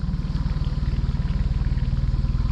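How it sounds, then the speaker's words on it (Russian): A motorboat runs downstream on a forest river, its outboard engine throbbing in a fast, even pulse, loud and close throughout, with no voices. "По течению, да, на моторке."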